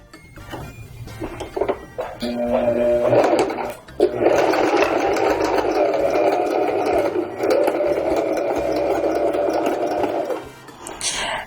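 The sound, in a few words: sewing machine stitching a wide zigzag seam on fabric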